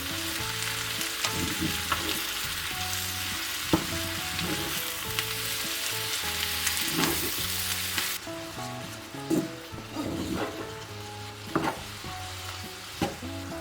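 Button mushrooms frying in a pan as their water cooks off, a steady close sizzle with occasional stirring scrapes and clinks, no talking.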